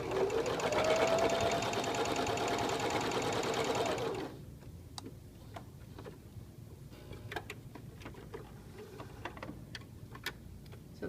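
A sewing machine stitching a 3/8-inch French seam in chiffon runs steadily and loudly for about four seconds, then stops, followed by scattered light clicks and rustles of handling fabric.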